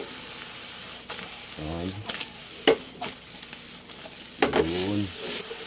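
Eggplant with bagoong sizzles and fries in a pan, with scraping stirs and clinks over a steady hiss, while a voice speaks briefly.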